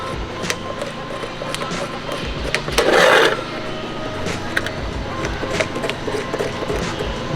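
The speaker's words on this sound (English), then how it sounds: "take a razor blade, just rub it on the edge" A razor blade rubbing along the edge of masking tape on a K-swapped AE86, a soft scraping rasp that peaks in one brief louder stroke, with light clicks and faint background hum.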